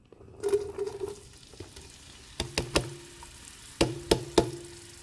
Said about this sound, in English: Stir everything together and cook for 2 to 3 minutes, just as the onion starts to get translucent.